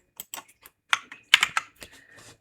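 A computer keyboard clatters through a quick run of separate key presses, including the delete key, crisp and close at irregular spacing while editing a PowerPoint presentation.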